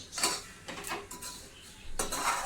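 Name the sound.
dry coconut being roasted and stirred in a pan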